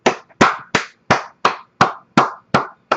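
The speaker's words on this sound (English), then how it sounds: "give Capcom a round of applause, folks" Nine sharp claps at a steady pace, each with a quick decay, close and fairly loud with no voices.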